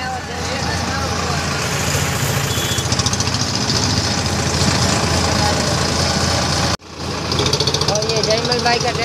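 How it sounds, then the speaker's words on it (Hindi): A Sonalika 50 HP tractor engine running in a village, a loud rhythmic diesel chugging that cuts out briefly and then resumes, with talking over it. "जयमल भाई का ट्रैक्टर है, 50 HP का सोनालिका ट्रैक्टर।"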